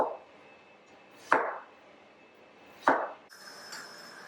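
A knife chops the stem tops off okra on a cutting board in two sharp, separate strikes about a second and a half apart, close and crisp in a quiet room, followed by a softer clack.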